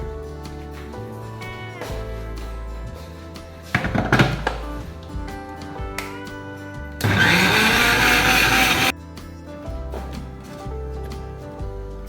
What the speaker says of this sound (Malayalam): നമുക്ക് മിക്സിയിൽ വെച്ച് ഒന്നടിച്ച്